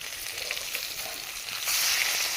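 Marinated catla fish frying in hot oil, a close, steady crackling sizzle that grows a little louder and brighter in the final second.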